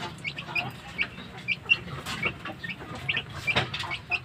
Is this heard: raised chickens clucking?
yes